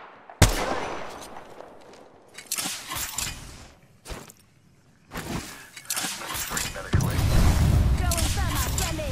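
Gunfire in the Apex Legends video game, bursts of shots and sharp impacts coming in loud, irregular clusters with brief gaps, over game effects.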